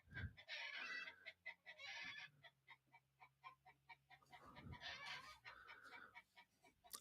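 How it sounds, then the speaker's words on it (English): Roosters crow just outside a window, several loud, harsh calls overlapping with clucking and rhythmic cackles from the flock, close and without any talking. "I don't know why the roosters are right underneath my window."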